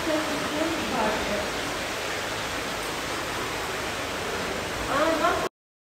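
Main waterfall inside a large cave, a constant broadband roar that fills the space evenly, with a voice talking briefly over it near the start and end before it cuts off.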